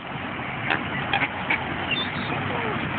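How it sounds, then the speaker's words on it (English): Ducks quacking at a pond, a few short distinct quacks scattered over a steady background hum, mid-distance and fairly faint. "Look at all these ducks"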